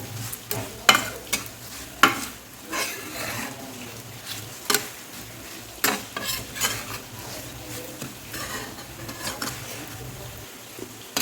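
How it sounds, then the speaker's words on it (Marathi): Chili masala with turmeric and salt fries in a pan, a soft sizzle broken by repeated close clanks and scrapes of a spatula stirring against the metal, no speech. "हे सगळं आपण मस्त दोन मिनिट फ्राय करून घेऊ"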